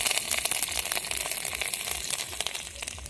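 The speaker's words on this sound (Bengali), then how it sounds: "ফোড়নে দিয়ে দেবো তেজপাতা, কাঁচা লঙ্কা আর ফোড়ন" Bay leaf, green chilli and whole spices hit hot oil for a tempering, a close, crackling sizzle full of sharp little pops, brief and busy, with no speech.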